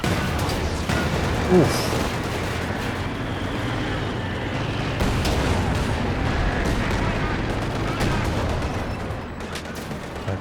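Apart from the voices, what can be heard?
machine gun fire in Company of Heroes 2 video game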